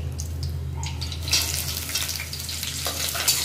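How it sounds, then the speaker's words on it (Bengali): Chopped onions and green chillies frying in mustard oil with nigella seeds and dried red chillies, a close steady sizzle broken by scraping stirs, with no talking. "পেঁয়াজের কাঁচা লঙ্কা একটু ভাজা ভাজা করে দেবো।"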